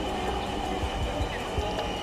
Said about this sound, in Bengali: ট্রেন চলে এসছে, কিছুক্ষণের মধ্যে আমরা উঠে যাব।